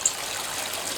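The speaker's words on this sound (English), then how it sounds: "Waterfall." A small waterfall in a garden fish pond gives a steady, close trickling and splashing that runs unbroken from start to finish, with no voices.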